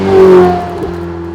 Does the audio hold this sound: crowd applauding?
no